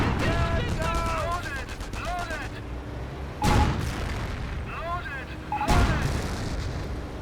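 Two sharp, loud sniper rifle cracks ring out a couple of seconds apart during a Company of Heroes 1 match between Wehrmacht and US forces, over steady battle noise and a commentator's talk.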